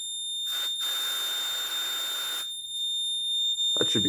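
A fire alarm panel sounds a loud, continuous tone through a system test, with a piercing buzz that runs for about two seconds while an alarm detector is tested and a brief voice is heard near the end.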